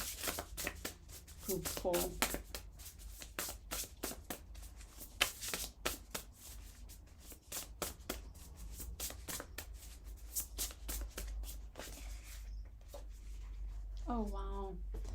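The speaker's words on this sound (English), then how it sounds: "I'm just going to draw from here for you for that last card" Tarot cards shuffled and drawn from a deck: dense, rapid papery flicks and snaps run throughout, close and fairly loud, with brief bits of voice near the start and end.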